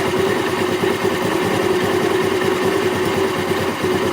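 A motorcycle engine runs close and loud with a steady buzzing mechanical drone, holding fairly even throughout rather than audibly falling in pitch.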